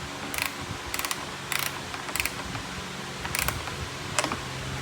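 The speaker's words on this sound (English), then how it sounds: "Now I'm just gonna go a little bit with the wrench." A wrench tightens a bolt into the plastic brake light housing of a Can-Am Maverick, giving several short bursts of ratcheting clicks in quick groups, close up against a low background hum.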